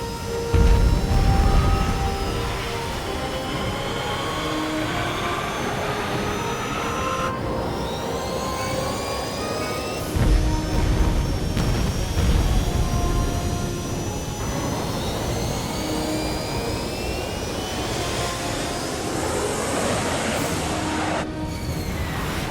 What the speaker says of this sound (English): Main engines are go. Course position locked in. You are cleared for takeoff on runway 3.